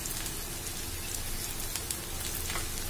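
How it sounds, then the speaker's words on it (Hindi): Ginger, garlic and green chillies frying in hot oil, a dense continuous sizzle and crackle with steady loudness throughout, close by and with no talking. "इसे हम ब्राउन होने तक थोड़ा फ्राई करेंगे।"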